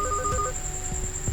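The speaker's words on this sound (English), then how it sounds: "you hear a ringing noise, and your father takes his phone out of his pocket." A telephone rings in the video game Heart Fragment, a steady electronic tone repeating over a low background hum, heard alone with no voices.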